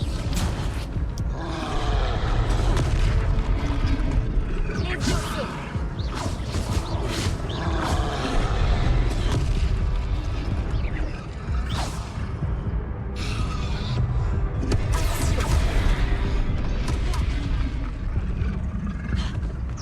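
Confringo blast spells explode during Hogwarts Legacy combat, with repeated sharp bursts and whooshes layered over a dense, rumbling wash of game effects.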